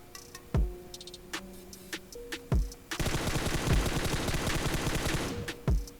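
Gunshots ring out in the PUBG video game as a bot is shot, a few sharp separate reports followed by a dense rapid burst of automatic fire and then one more loud shot.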